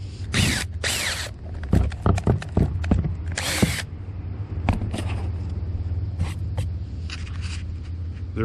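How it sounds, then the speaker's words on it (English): A power drill bores through the rotted wood of a trailer bed in short, loud bursts, separated by ratcheting clicks and mechanical knocks, all close to the microphone over a low background hum. "you can just drill right through it and you don't got to worry"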